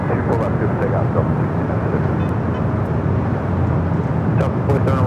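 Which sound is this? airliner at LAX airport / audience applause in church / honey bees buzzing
airliner at LAX airport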